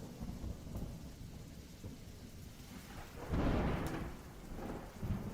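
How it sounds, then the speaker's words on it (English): Rain falls steadily outside a window while a muffled thunder rumble rolls in from a distance, swelling into a deep, broad roar midway before easing off, with light patter continuing throughout. "Everything was quiet except the sound of rain outside the window. At this moment, there was a muffled thunder in the distance."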